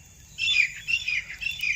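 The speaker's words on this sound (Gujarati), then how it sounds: "જોઈ લો પક્ષીનો અવાજ." Birds chirp and tweet in a farm field of green groundnut plants, a busy, bright chatter of several overlapping calls that starts abruptly and continues close by over a low rumble.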